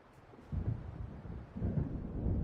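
Low thunder from an approaching storm in the video game Alan Wake, a soft, distant rumble swelling in two broad waves over a couple of seconds with no talk.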